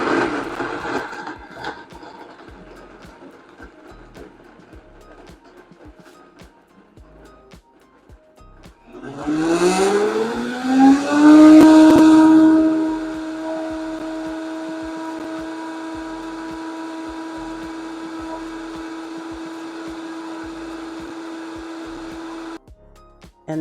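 A Vitamix Propel 510 blender on its smoothie setting, starting with a loud surge that quickly ramps up in speed, then settling into a steady high whine before cutting off abruptly.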